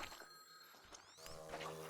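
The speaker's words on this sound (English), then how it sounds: "Phone ringing." A telephone bell rings faintly in the video game Baby Steps, with ringing bursts and trailing tones mixed into a busy outdoor game ambience, with no speech.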